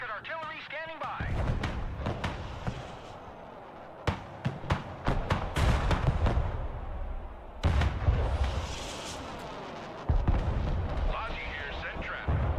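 Rocket artillery fires in a Broken Arrow multiplayer battle. Heavy booming blasts and rumbling launches come in repeated bursts with strong low-end weight, overlapping a voice talking throughout.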